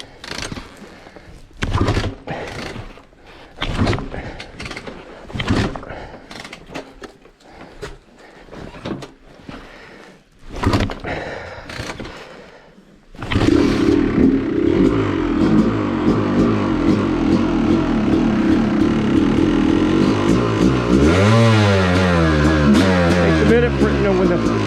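An off-road motorcycle is cranked with several short kick or starter attempts amid clatter, then the engine catches and settles into a steady, loud idle with a rising rev near the end, someone speaking over it.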